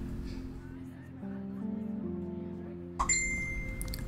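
A phone notification in the Life is Strange video game gives a short bright chime with ringing overtones near the end, sounding over a low background music bed.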